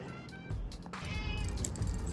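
Hungry cats meow loudly while waiting to be fed at a pet-sitting visit in France, several drawn-out cries following one another up close.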